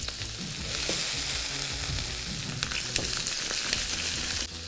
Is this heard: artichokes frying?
yes